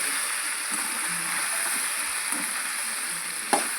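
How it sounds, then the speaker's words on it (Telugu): Okra fry being stirred in a pan with tempering seeds, a steady, even sizzle with light hiss, close and moderately loud, with one brief clatter near the end and no talking. "పోపు గింజలలో వేసుకున్న తర్వాత అలా కలుపుతూనే ఉండాలండి అప్పుడప్పుడు"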